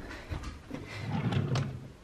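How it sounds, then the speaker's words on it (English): A small drawer on an advent calendar slides open with a soft scrape and a few light knocks, close and fairly quiet, no talking during the sound. "Check the drawer."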